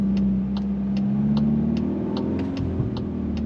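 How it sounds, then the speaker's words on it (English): A VW Golf R with an automatic transmission and AWD accelerating after a U-turn, its engine a steady, close rumble that rises in pitch, with a faint rhythmic ticking over it. "we're gonna make a U-turn at this light and go on throttle again"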